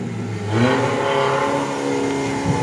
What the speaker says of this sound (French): On peut entendre l'embrayage qui patine